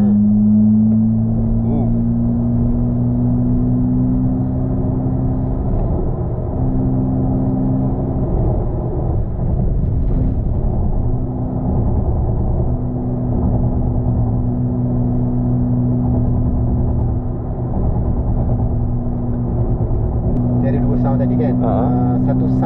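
Digitally amplified engine sound in Brabus mode from a Smart #1 electric car driven in Kuala Lumpur, a loud sustained synthetic drone with steady tones that rise, dip and return over about twenty seconds.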